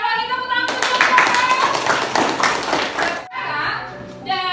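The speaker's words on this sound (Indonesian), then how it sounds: "sekali lagi tepuk tangan untuk Jong Java" A classroom gives a student group a round of applause after a poster presentation, a burst of clapping from many hands that rises and fades within seconds, with a voice heard before and after it.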